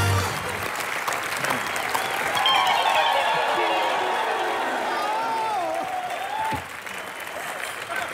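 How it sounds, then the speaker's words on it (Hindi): Loud, sustained applause with cheering from a studio audience at a Hindi TV comedy show, filling the whole stretch and dipping slightly near the end, with some voices mixed into the crowd noise. "इनके लिए जोरदार तालियां"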